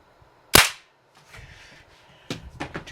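A Daisy 880 pump air rifle, pumped ten times, fires one sharp, loud crack that decays quickly, followed by faint rustling and clicking handling noises.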